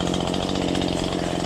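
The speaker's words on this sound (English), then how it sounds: "it's a bunch of chainsaw work, lopping, and throwing some bush" Chainsaw cutting brush while clearing ground for a barbed wire fence build, a loud, steady, close engine roar holding at constant revs with no talking.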